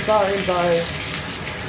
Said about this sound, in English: Hot water's on.